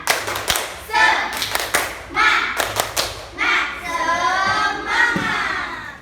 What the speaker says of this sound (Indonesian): Kita tepuk semangat semuanya, bisa kan?